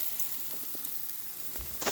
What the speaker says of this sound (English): I don't know if that sizzle's coming through on the microphone here